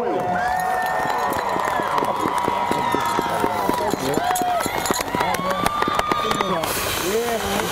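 A crowd at a high school district championship cheers and applauds for the Pius X Royals, loud and continuous throughout, with voices and shouts mixed in.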